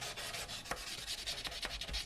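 Fine 800-grit sandpaper rubs by hand across the wood of a tenor ukulele in soft, quiet, rhythmic back-and-forth strokes, close and alone.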